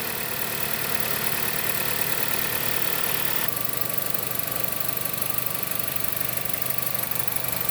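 A 2013 Chrysler 200 engine idling after an oil-light repair, a steady even hum with a faint ticking rhythm, running alone without voices throughout.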